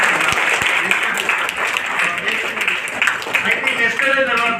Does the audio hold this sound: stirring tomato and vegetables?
no